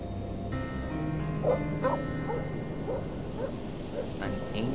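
In the video game Black Mirror II, a dog gives a series of short barks and yips at a steady pace, moderately distant beneath a humming ambient game soundtrack.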